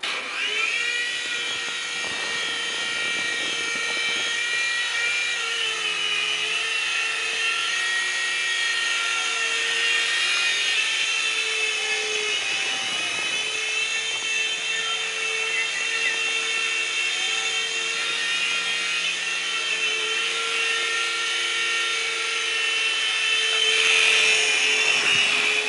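uControl Cloud Force RC helicopter in flight, its small rotor and motor giving a steady high-pitched whir that holds close and constant throughout, with slight swells in loudness toward the end.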